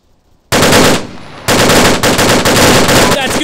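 A machine gun in the military shooter Arma 3 fires loud, close bursts: one short burst, a brief pause, then a long sustained rattle of rapid shots.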